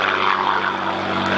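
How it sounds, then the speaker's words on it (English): A Supermarine Spitfire Mk XVI E flies past at an air display, its piston engine giving a loud, steady propeller drone that holds through the whole brief moment, with no talking. "And now back to Simcoe it goes, and we'll see it again tomorrow in these ever-increasingly rare performances by Spitfires."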